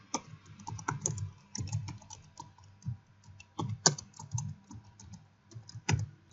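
Computer keyboard typing in quick irregular bursts of close key clicks with short pauses, alone without any voices, while text is entered in Illustrator for a business card design.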